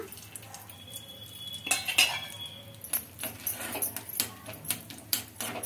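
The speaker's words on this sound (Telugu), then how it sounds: "చిన్న కడాయి పెట్టుకొని అందులోకి బాదం పప్పు అయితే ఫ్రై చేసుకుంటున్నా." Almonds frying in ghee in a small kadai give a soft, faint sizzle under a series of sharp metallic clinks and scrapes of a spoon stirring against the pan, close and irregular.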